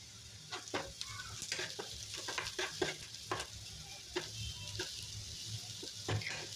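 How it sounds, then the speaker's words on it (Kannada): Tempering sizzles in a pan over a low flame while being fried until brown for tamarind chitranna rice, a soft continuous crackle broken by frequent scraping strokes of a spoon. "ನೋಡಿ ಫ್ರೈ ಮಾಡ್ತಾಯಿದ್ದೀನಿ."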